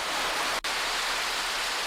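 Heavy rain pours over Dhaka city as a dense, steady hiss of falling water, broken by one very brief dropout.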